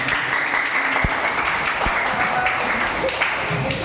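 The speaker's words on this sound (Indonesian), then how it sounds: "Kita beri tepuk tangan." Group of students applauding after a classroom group presentation, with steady, close clapping throughout and a couple of louder thumps.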